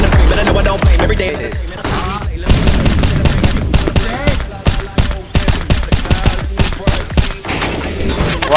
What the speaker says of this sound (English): Why are you shooting me, Arik?